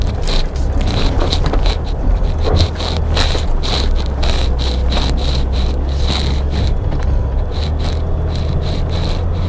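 A Jeep Gladiator Rubicon on big off-road tires churns through soft, sandy, rutted soil on a steep hill. A heavy engine rumble sits under a continuous gritty scraping and crackling, with regular rhythmic clicks close by.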